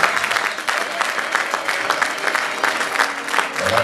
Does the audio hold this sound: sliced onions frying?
no